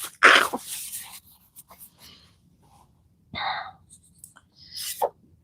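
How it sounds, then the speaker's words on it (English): Sneezing in a quiet room, a sharp loud sneeze at the start followed by two more sneezes, with faint breathing and sniffles in between. "I'm starting to sneeze again."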